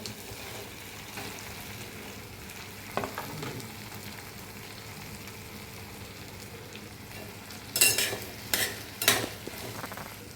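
Okra fries in a pan with an onion, tomato, ginger, garlic, cumin, mustard seed and curry leaf tempering, a low continuous sizzle. Near the end come several loud metallic scrapes and clanks of a spoon against the pan.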